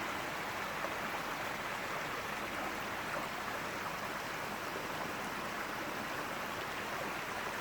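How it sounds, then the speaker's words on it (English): A small brook running through a backyard at the edge of the lawn, a soft, even hiss of flowing water that stays steady and faint throughout, with no voices. "the smaller brook that runs through our backyard"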